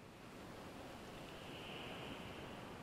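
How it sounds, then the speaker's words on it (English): Ocean waves surge inside a cavern as a steady, broadband roar of surf and rushing water, heard at a faint recording level with no talking. "the waves are very, very loud, so careful."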